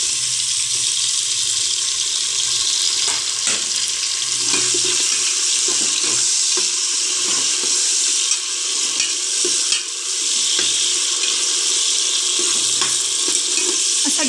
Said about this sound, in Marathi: आता आपण त्याच्यामध्ये बारीक चिरलेला टोमॅटो घालून घेऊया।